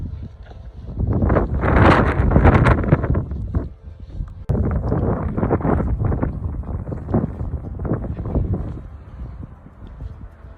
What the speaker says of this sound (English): The wind's been pretty fierce today, I'd say like 30-mile-an-hour gusts.